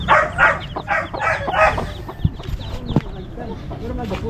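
Chickens, including hens, cluck and squawk in short bursts nearby on a small farm, with a voice speaking briefly amid the flock's chatter.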